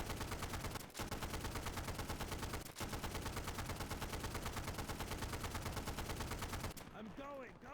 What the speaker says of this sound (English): We just lay down aggressive suppressing fire at these fucking Germans.